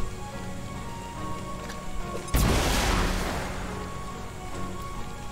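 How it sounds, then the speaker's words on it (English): A grenade goes off in the XCOM 2 video game with a sudden loud, broadband blast partway through, followed by a long crackling decay of falling debris over a steady low background hum. "I'm gonna grenade him"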